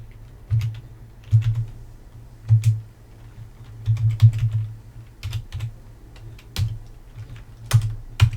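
Keys pressed on a computer keyboard, including the Tab key, in separate clustered taps and clacks at irregular intervals, close and clear with no voices.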